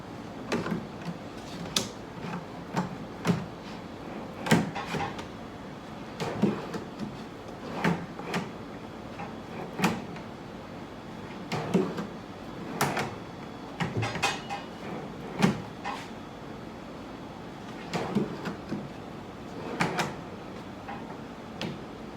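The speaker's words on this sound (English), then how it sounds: "I'll put the drawer in." A wooden sideboard drawer is slid into its opening repeatedly, giving many short knocks and clatters of wood on wood spread across the stretch, close and moderately loud, with no voices.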